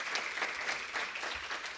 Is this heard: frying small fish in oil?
no